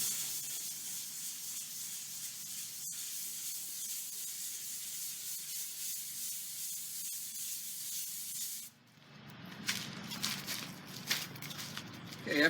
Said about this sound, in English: after you get it sanded down